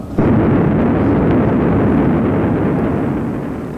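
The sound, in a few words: violent volcanic explosion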